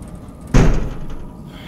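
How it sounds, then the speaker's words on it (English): A door closing in the Five Nights at Chuck E. Cheese horror game, one sudden heavy thud that rings out briefly and fades into low background hum. "I said close the door"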